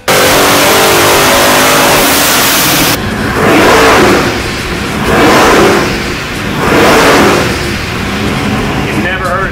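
Twin-turbo 427 Supra engine making 1,480 horsepower revs hard at close range, a loud sustained blast of engine noise that drops, then surges and fades back through several rising and falling rev swells.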